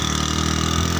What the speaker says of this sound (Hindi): वो तो मोटरसाइकिल है